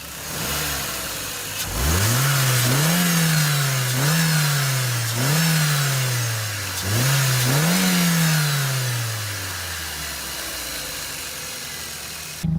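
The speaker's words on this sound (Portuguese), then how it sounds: "Se esse for o caso, acelere e solte repentinamente a aceleração." A used car over ten years old has its engine revved repeatedly in a few sharp bursts, each rising and then dropping as the throttle is suddenly released, ending in a steady idle that fades away. It is heard close up, with no talk.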